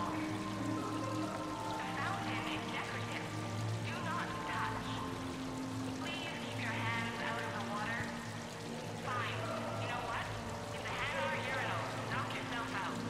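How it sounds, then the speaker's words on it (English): A decorative fountain splashes steadily in the video game Mass Effect 3, a continuous pouring trickle of water under voices talking and a soft ambient hum. "Please do not touch the waterfall. The fountain is decorative."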